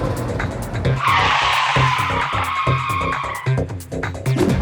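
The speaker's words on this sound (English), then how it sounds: "But how will 100-year-old tires perform in a modern braking test?" A Mazda Miata on roughly 100-year-old tires brakes hard in a braking test, letting out a loud, sustained tire squeal and skid over engine and road noise, with thumping underneath, heard close.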